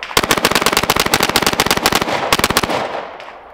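A Glock 19X pistol with a GFLEX binary trigger fires a long, rapid string of loud, close, evenly spaced shots, firing on both pull and release, before stopping and leaving a short fading tail.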